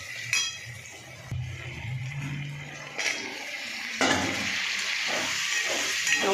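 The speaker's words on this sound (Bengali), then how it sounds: "এই যে আদা রসুন পেঁয়াজ ভাজা হয়ে এসছে" Ginger, garlic and onion sizzle in a hot pan with a steady frying hiss, broken by a few clinks and scrapes of a utensil against the cookware, close and alone without talk.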